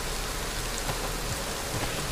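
Steady rain falls in the survival game DayZ, a continuous even hiss of drops with faint patters, with no voices.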